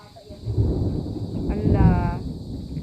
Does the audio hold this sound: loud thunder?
yes